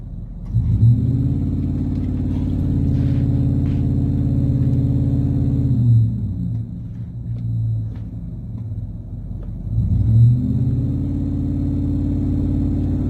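A car engine revving hard in two long surges with a low rumble between them, loud and close, as a tire spins while the car tries to climb from a downhill spot to level ground.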